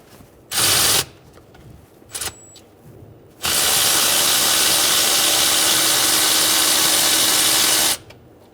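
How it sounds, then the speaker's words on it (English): Starter bolts come out with a 14mm socket on a 2003-2008 Honda Pilot: two short loud bursts of tool noise, then a long steady whir of several seconds, close and harsh. "Using a 14mm socket, remove the 2 starter bolts."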